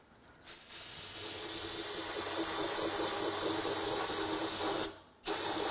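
Spray cleaner spritzed onto a sludgy engine tensioner in a Honda CR-V 1.5L engine, one long, loud, steady hiss that cuts off abruptly, with a short puff just before and after.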